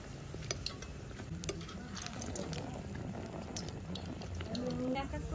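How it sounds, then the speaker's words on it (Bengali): Mango malpua frying in hot oil: a continuous bubbling, crackling sizzle, steady and moderately close, with faint background sounds and possible voices. "এক এক করে সব আমি ভেজে নেবো এরকম করে"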